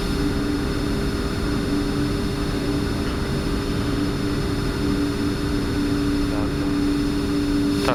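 Boeing 747 jet engines at takeoff thrust on the runway produce a constant heavy roar with a steady whining tone, heard loud from inside the cockpit.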